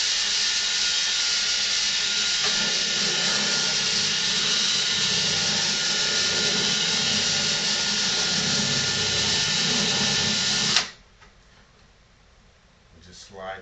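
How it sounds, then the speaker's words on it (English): A continuous high whine of a small power drill boring a model airplane part, running steadily for about eleven seconds, then stopping abruptly. "I'm going to go ahead and drill right here"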